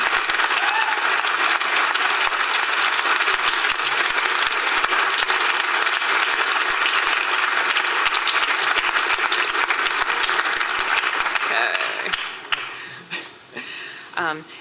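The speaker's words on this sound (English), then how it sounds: "stand so we can welcome you with a round of applause" A large convocation audience applauds to welcome newly entering master's students as they stand, loud, dense, continuous clapping that thins and breaks up near the end as the crowd settles.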